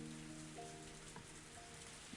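Heavy rain from the video game Higurashi When They Cry makes a dense, steady hiss, faint and continuous, with a soft sustained musical drone beneath it.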